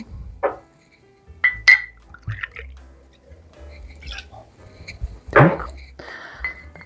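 Glassware clinks and taps several times while a pumpkin-liqueur cocktail with vodka is built directly in the serving glass, with light liquid pouring sounds between short, close chinks.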